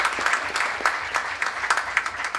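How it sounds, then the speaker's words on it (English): Moderate applause rises from an audience at a research awards ceremony for four award beneficiaries, a short steady patter of many hands at medium distance. "A big round of applause for all the 4 beneficiaries."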